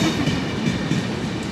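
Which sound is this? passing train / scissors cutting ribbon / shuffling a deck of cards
passing train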